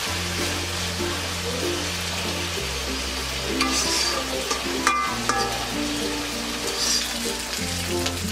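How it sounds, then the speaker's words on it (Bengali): Taro stolons with dried fish cook in a pan, a continuous crackling fry broken by scraping stirs partway through, close and fairly loud with no voices. "মাঝখানে একটু নেড়ে দিতে হবে, না তো লেগে যেতে পারে।"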